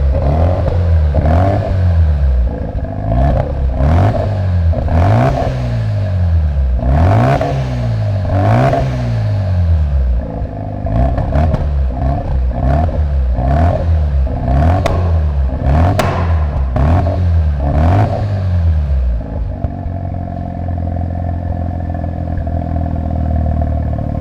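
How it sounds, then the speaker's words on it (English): A Mazda RX-7 FD3S rotary engine with a Fujitsubo exhaust revs hard in repeated rhythmic blips, loud and close, each rising and dropping back, before settling into a steady high idle. "Marc, this is your exhaust"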